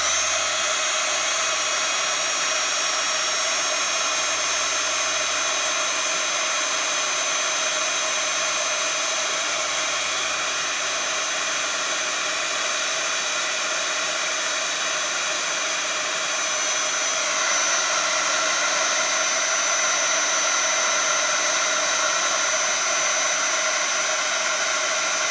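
A heat tool blows a steady, loud, continuous hot-air roar over a handmade stamped card, running without pause throughout with no talk.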